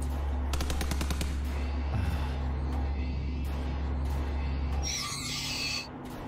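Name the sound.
gunshots from the video game SIGNALIS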